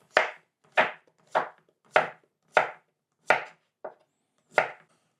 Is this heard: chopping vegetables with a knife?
yes